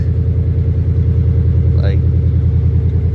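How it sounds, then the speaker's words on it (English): A lowered Toyota GT86 fitted with BC Racing coilovers idles with a loud, steady, deep exhaust rumble that fills the whole stretch, close and unbroken, with a brief higher whine rising briefly midway. "the car might be a little too loud"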